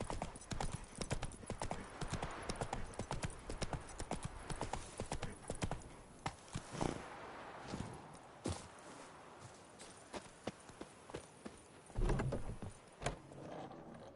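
Roach the horse galloping in The Witcher 3, hooves clip-clopping in a rapid rhythm that slows and thins out, with a brief whinny and close, fairly quiet footfalls throughout, no talk.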